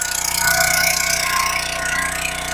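A small gas engine on a log splitter runs with a steady, buzzing idle after starting, at moderate loudness and close by.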